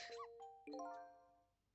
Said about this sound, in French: C'était le bruit d'un téléphone qui sonnait.